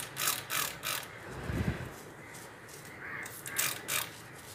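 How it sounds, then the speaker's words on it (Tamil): Several short bursts of spraying hiss from a trigger bottle onto a cloth for cleaning an infrared cooker, in quick pumps with brief pauses, plus a soft low thump in between. "ஒரு சைடில் ஸ்ப்ரே பண்ணிக்கிறேன்."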